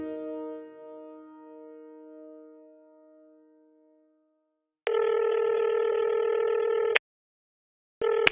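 A phone call going unanswered: a fading electronic tone, then a steady loud ringback tone lasting about two seconds, silence, and another ring starting at the end, with no talk.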